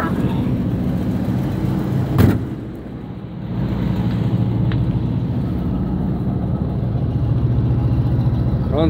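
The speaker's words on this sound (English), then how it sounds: "Kick it into high idle." A 1982 GMC C30 truck engine runs at high idle on a snowy day, a close and steady low rumble with a brief knock partway through. A voice can be heard over it.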